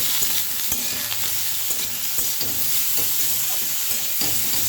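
Ridge gourd cooks in a pan with salt and ginger paste, giving a constant sizzle broken by frequent spatula scrapes and knocks against the pan. Nobody speaks.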